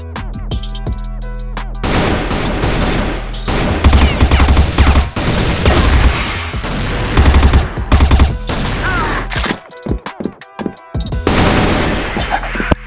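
Rapid automatic rifle bursts, including an M4, fire continuously in the online shooter game CrossFire, loud and dense with short pauses between volleys.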